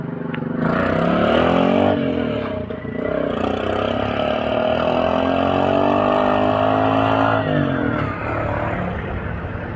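Motorized three-wheeled tricycle in Dapdap East, Tagaytay, its engine droning steadily and fairly close for several seconds as it passes, with the pitch shifting under acceleration before dropping away.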